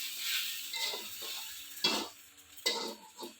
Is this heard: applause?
no